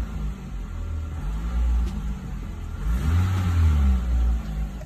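A 2000-2005 Toyota Celica GT/GTS engine runs after an alternator replacement, heard close up as a steady low idle that swells into a brief rev and then settles again, with no talking.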